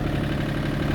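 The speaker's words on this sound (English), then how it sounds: "gonna go on a quick ride around the property on the tractor," Old John Deere tractor engine idling and running steadily at close range, a continuous low rumbling drone with even vibration throughout and no voices over it.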